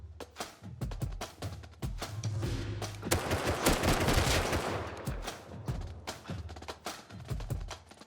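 Rapid bursts of gunfire from Rust, a survival shooter game, crack out in quick volleys with a dense, sustained barrage in the middle, loud and close, with more shots scattered before and after.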